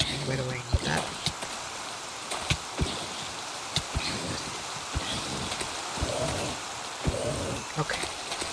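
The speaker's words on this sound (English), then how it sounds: "And rain is not a good sign. Storm is coming." Steady rain in the Minecraft video game forms a continuous hiss, broken by scattered sharp clicks and taps, with a person talking over it.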